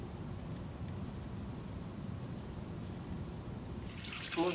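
Spring water from a hillside source trickles steadily and close by, a soft continuous splashing with brief louder splashes near the end as it is used to wash a face during a mountain hike.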